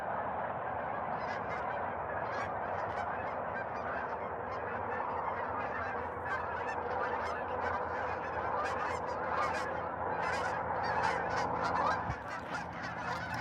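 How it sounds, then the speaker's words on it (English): A huge migrating flock of about a thousand geese honks continuously overhead, a dense chorus of overlapping calls that stays steady and loud throughout with no talking. "ton of geese heading east to west right here"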